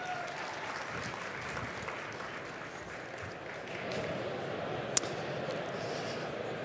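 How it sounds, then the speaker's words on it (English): Applause from an audience at a startup pitch semifinal event, a steady continuous wash of clapping at moderate level across the whole stretch with a brief sharp click near the end. "Give a warm round of applause."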